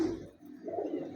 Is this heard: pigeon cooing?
yes